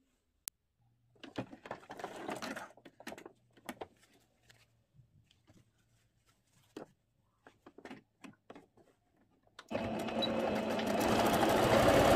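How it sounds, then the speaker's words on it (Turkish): A sewing machine stitches elastic onto a viscose skirt in short, separate bursts of whirring, then finishes with one long, steady, louder run near the end. The machine is heard close up. "bunun iki kenarını da dikiyorum. Aynı şekilde lastiğimi de dikiyorum."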